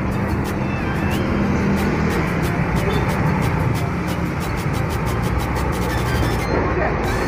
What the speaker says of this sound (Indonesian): Ini dia ada bus dari Harapan Jaya barusan datang dari arah Surabaya via tol